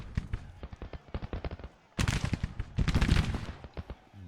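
Bombard gunfire in the Grand Tactician strategy game: rapid rattling volleys of rifle and musket shots, a dense burst, a brief pause, then a louder, heavier fusillade that tapers off.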